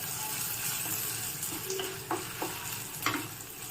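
Around ten dry red chillies and a handful of curry leaves roasting with lentils in a pan, a faint steady sizzle with a few light scrapes and clinks of stirring.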